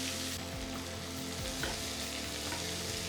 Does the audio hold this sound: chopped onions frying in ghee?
yes